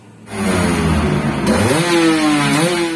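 A motorcycle engine revs up with a loud, raspy racing exhaust, pitch climbing and holding high, close by with no talking.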